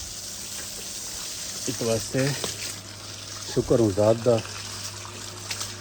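Water gushes steadily from a motor-driven pump at a rural well, a continuous rushing flow under someone speaking loudly in two short bursts.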